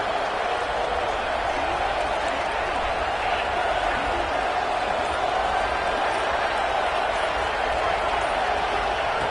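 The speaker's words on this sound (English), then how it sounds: "And the crowd coming to life here, trying to help this defense down in the red zone." A football stadium crowd roars in a steady, dense wash of cheering and noise as the defense plays in the red zone, continuous and loud throughout.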